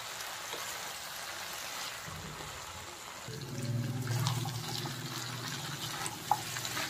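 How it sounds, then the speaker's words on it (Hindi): Mixed vegetables for a Kolhapuri mix veg dish frying in a pan, a steady close hiss and sizzle that thickens and grows louder about halfway through, with no talking. "तो अभी हम 5 मिनट के लिए अच्छे से इसको फ्राई कर लेंगे।"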